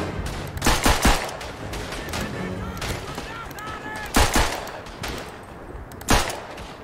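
Machine pistol firing in the First World War shooter Verdun, several short sharp bursts spaced apart over a busy battlefield background, with a voice talking briefly in between.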